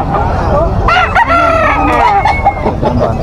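A rooster crows loudly and close by, its drawn-out call rising and falling over background chatter and other clucking birds.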